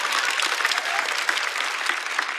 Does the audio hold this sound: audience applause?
yes